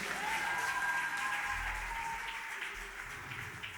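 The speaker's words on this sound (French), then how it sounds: "Est-ce que tu peux acclamer encore pour ce cantique?" A church congregation applauds after a hymn at a worship celebration, a steady wash of clapping from many hands that is moderately loud and slowly tapers off, with no voices over it.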